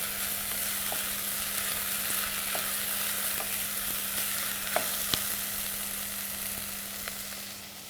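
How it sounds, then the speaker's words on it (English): Chopped onion sizzling in a pan as it is stirred toward golden brown for butternut soup, a steady close frying hiss with occasional soft spoon scrapes and pops, no voices. "You keep on stirring until the onion turns golden brown."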